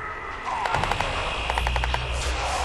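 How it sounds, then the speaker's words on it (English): Automatic gunfire in the Crysis 2 video game, two rapid bursts of machine-gun shots over a steady low rumble of game ambience, with no speech over them. "Open fire!"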